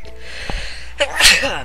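A character in the Eternal Sonata video game sneezes twice in quick succession, a short sharp burst followed by a louder, breathier second sneeze, close and clear.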